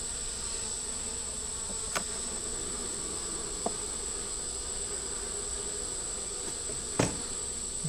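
Honeybees buzz around a hive frame in a steady, dense drone, with a few brief knocks and clicks breaking through.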